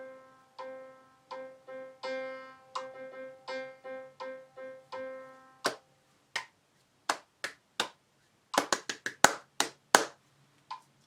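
Sharp hand claps, single and in short bursts, follow a repeating synthesized musical rhythm in a music-composition lesson. Each clap is close and crisp against the quiet room.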